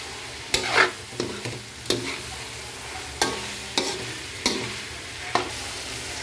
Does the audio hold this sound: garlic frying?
yes